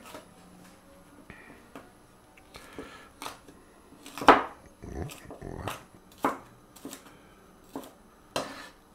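A knife chops bell pepper and pork stomach on a cutting board: scattered sharp taps, some close together and some single, with a louder clatter near the middle, under quiet background noise.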